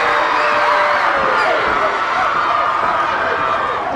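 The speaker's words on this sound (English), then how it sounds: "This crowd's going absolutely nuts right now." Wrestling crowd roaring wildly at a live match, a loud, dense wall of cheers and shouts sustained throughout, with voices rising and whooping over the din.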